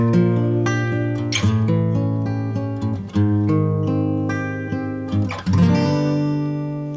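Strummed guitar chords ring out clearly, moving through a short repeating blues turnaround in G with a steady rhythm and no voices.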